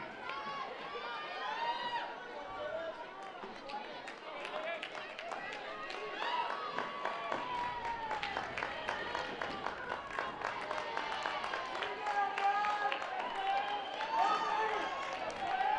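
Spectators at a women's college softball game between Charlotte and Georgia keep up a lively, continuous murmur of chatter, whistles and shouts, with a commentator talking over it throughout.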